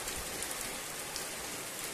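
Heavy rain pouring steadily, a dense, even hiss of drops with no voices.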